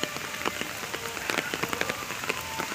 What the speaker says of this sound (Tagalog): ang aga-aga umuulan